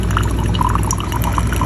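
Boiling hot water streams from a DeLonghi coffee machine into a cup, a steady splashing pour with small bright drips throughout, close and continuous.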